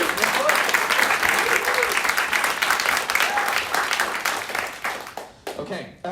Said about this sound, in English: a quick little round of applause for Richard,